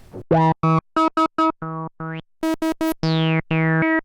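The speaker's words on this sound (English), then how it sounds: "We can do a thin one, just a sawtooth." A bright, buzzy thin sawtooth synthesizer tone, from a Dreadbox Erebus or Hades synth, plays a series of short staccato notes, a few gliding upward in pitch, each cleanly separated by brief gaps.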